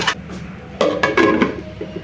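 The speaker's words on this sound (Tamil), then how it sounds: "மூடி போட்டு மூடி வச்சிடலாம்" A metal lid clatters onto a pot with several quick, close clanks, then settles into quiet.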